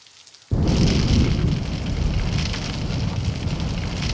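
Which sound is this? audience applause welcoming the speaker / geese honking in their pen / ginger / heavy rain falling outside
heavy rain falling outside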